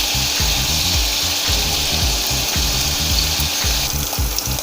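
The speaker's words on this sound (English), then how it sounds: "we'll just gently turn it over as it is frying" Cubes of paneer (cottage cheese) sizzle and crackle steadily as they fry in oil in a pan, a constant close frying noise with rhythmic low scraping or stirring and no talk.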